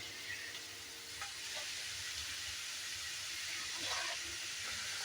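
Onions frying in oil in a pan, a soft, steady sizzling hiss that continues evenly, faint and close, with no voices.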